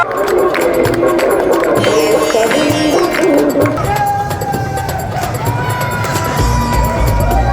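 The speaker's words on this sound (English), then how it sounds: "Big round of applause for this." A loud outdoor crowd at a Kambala buffalo race in India claps and cheers, with shouts and babble layered over a dense, continuous roar close by.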